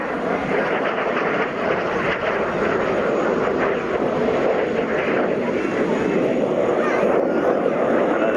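A military jet at an airshow roars steadily and loudly as it pushes through an outside climbing turn, a continuous broad engine noise with a commentator talking over it.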